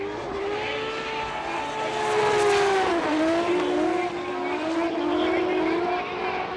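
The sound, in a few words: drift cars on throttle at Fuji International Speedway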